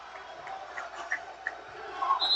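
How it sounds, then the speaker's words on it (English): Spartan home crowd at a college basketball game, a distant, fairly subdued murmur of cheering that swells slightly toward the end, with faint scattered court noises and no clear voices on top. "the Spartan crowd has something to cheer about here"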